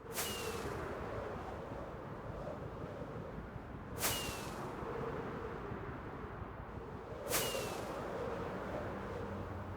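Three sharp whooshing bursts of firework rockets boosting elytra flight in Minecraft, evenly spaced about every three to four seconds over a steady rushing wind-like background.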